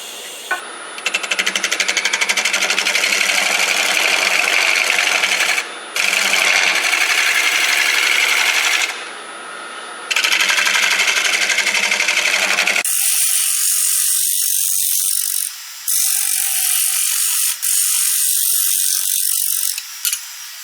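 A gouge shears across a punky natural-edge walnut crotch bowl spinning on a lathe, giving a loud, steady, rasping scrape in long strokes broken by short pauses. The tone turns thinner and lighter for the last few passes.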